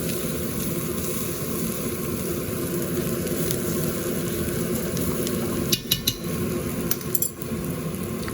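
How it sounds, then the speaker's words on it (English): Rice toasting in a hot pan for risotto, a continuous close sizzle with light scraping from stirring and a few sharp clinks near the end. "you want to hear a few popping sounds to make sure it's getting a bit toasty in there"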